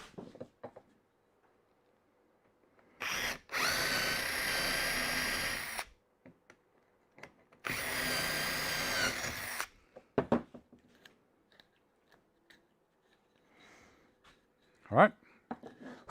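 A power drill runs in two steady bursts of a few seconds each while drilling holes in a wooden 45-degree shooting board, followed by scattered light clicks and handling noises.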